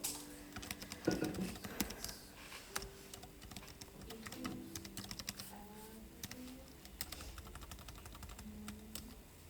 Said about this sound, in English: this one I'm typing right now